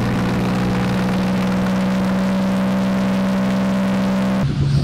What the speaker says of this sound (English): Push forward throttle to reach takeoff speed.